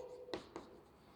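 Chalk or marker strokes on a classroom board during an electronics lesson: two quick, faint tapping scrapes in close succession, followed by quiet room tone.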